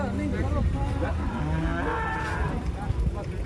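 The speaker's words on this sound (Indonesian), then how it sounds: "kita kedatangan sapi pegon. Pegon raksasa." A giant Pegon cow being unloaded from a truck at a market gives several loud, close, drawn-out moos, with faint voices in the background.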